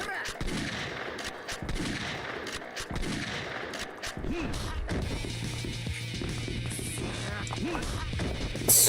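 Shotgun blasts and weapon handling in Yakuza 3 Remastered, repeated sharp bursts with mechanical clacks amid game ambience and brief faint voice.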